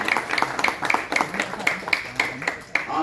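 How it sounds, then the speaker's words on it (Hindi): Applause at a retirement farewell ceremony: a small group claps in an uneven, fairly quick rhythm for about three seconds, moderately close, with no voices. "इतनी लंबी सर्विस के लिए एक बार जोरदार तालियां दो"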